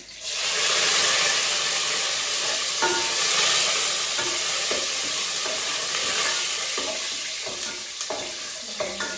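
Curry leaves and garlic sizzle in hot oil with a loud, steady frying hiss for a bottle gourd sambar, close to the pan. Light scraping and stirring taps punctuate the sizzle throughout.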